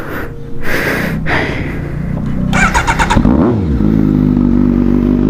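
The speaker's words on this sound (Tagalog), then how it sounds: "Tayo mag-start ng mga motor ko." A motorcycle engine, a Kawasaki Z900 or Vulcan S, cranks, sputters and catches, revving briefly before settling into a steady loud idle close by.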